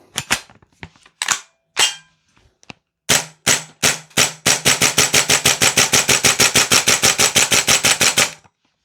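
A Vorsk VMP-2 gas blowback airsoft rifle fires a few scattered single shots and then a fast, even burst of sharp cracks, close and loud, with the gun starting to struggle.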